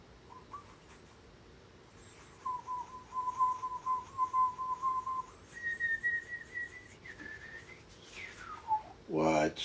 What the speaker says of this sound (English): That's Daddy whistling.